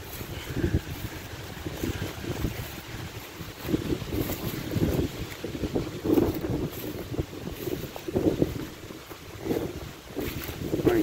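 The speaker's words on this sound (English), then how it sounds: "Extremely windy today, but extremely beautiful too." Strong wind blows outdoors on a very windy day, buffeting the microphone with a constant, gusty low roar that swells and eases throughout and continues without a break.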